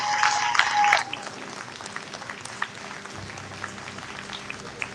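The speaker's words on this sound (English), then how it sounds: "Ladies and gentlemen, big round of applause, Justin Sheffield." At a rally against censorship, an audience claps and whistles for a speaker in a short, loud burst that drops after about a second into quieter scattered crowd noise.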